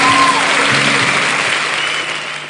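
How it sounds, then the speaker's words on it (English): A conference audience at a fintech event in Lagos applauds in a loud, dense, continuous wash of clapping that holds steady, then gradually fades toward the end, with a faint voice at the start. "Can we give them another round of applause?"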